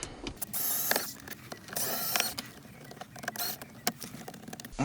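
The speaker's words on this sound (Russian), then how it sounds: "теперь откручиваем магнитолу" Ratcheting, clicking hand-tool work while unscrewing bolts to remove the stereo from a Hyundai i30, close and fairly quiet with irregular clicks and rattles, no talk.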